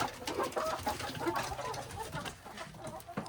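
Chickens in a coop clucking softly in short, irregular calls, faint and close-by, with some rustling in the background.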